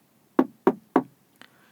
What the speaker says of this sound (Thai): คราวนี้ดังมาจากบานประตูสุดปลายทางเดิน เสียงทึบหนักกว่าบานแรก